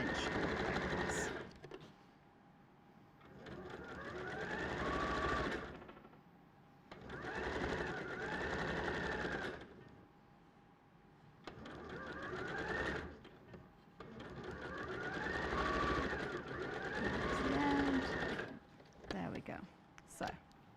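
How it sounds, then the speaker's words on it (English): A sewing machine stitching a quarter-inch quilt seam runs in several bursts of steady mechanical whirring, each lasting a few seconds with short pauses between, close and moderately quiet. "2 stitches forward, 2 stitches back, and then continue 1/4 inch all the way across."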